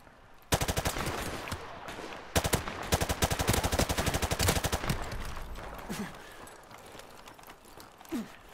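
Rapid automatic gunfire in a gun-game video game match, with bursts of sharp, evenly spaced shots crackling close and loud for several seconds, then breaking off into quieter scattered sounds.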